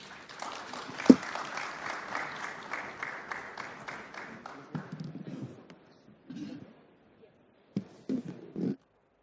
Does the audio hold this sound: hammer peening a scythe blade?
no